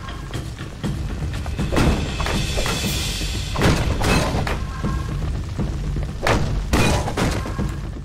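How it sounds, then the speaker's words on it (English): Repeated crashes and shattering thuds as objects are smashed in Marvel's Ultimate Alliance on PS3, a dense run of loud breaking impacts over a continuous game background. "Breaking all your stuff."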